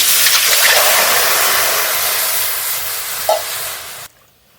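Water poured into a hot wok while cooking green jackfruit: a loud, close, steady steam hiss that slowly eases, then cuts off abruptly near the end.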